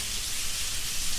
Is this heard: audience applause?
no